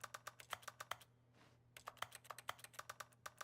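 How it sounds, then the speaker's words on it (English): Rapid mouse left clicks in The Stanley Parable sound just like keyboard typing, a steady patter of sharp close taps with a short pause in the middle, played alone. "I like how when I left click it sounds like I'm typing on a keyboard."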